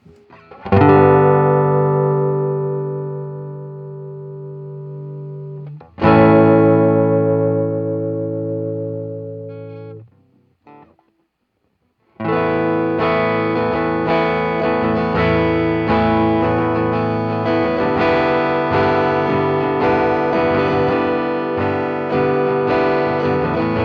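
Sustained acoustic guitar chords ringing out through a Boss ME-90 effects pedal, smooth and reverberant, with a brief pause before a denser strummed passage continues.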